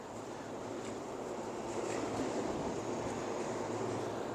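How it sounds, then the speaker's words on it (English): A subway train runs underground beneath a Tokyo street, a steady low rumble and broadband roar that swells slightly midway, heard faintly from above with no talk. "You can hear the subway underneath me."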